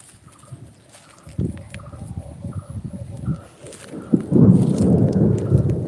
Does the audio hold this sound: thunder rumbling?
yes